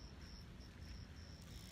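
Grasshoppers chirp in short repeated bursts in a small Texas town square, faint and distant over steady low wind and background rumble.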